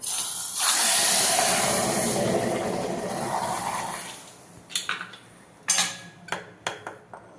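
Curry leaves and chillies sizzle in hot oil as a tempering for sambar, a loud steady hiss for about four seconds that fades, followed by a few sharp clinks of a pan and utensils.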